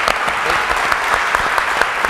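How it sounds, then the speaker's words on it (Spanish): Audience applauding a guest at a Buenos Aires talk-show style discussion on consciousness, a steady dense wash of hand claps filling the whole stretch, fairly loud and close with no talk over it. "Vamos a darle un gran aplauso a Diego Cosmeli por estar acá en la tertulia."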